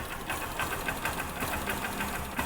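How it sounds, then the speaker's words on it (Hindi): A Pulsar motorcycle engine with a low battery runs in a fast, even ticking pulse at moderate volume, a steady mechanical chatter with no voices. "ये देखो, मैं अपना बाइक का साउंड सुनाता हूँ"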